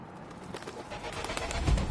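Pigeon cooing in the Spider-Man Miles Morales video game, soft repeated coos over a busy city-like background murmur that grows slightly louder toward the end, with no talk.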